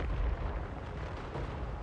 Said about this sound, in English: I wonder if I can hit that magic tower from way back here with my cannons.